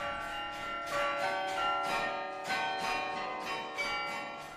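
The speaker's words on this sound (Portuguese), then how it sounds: "O carrilhão é formado de 47 sinos" Many bells of different pitches ring out together in a 47-bell carillon, overlapping tones struck in a steady rolling pattern, resonant and clear.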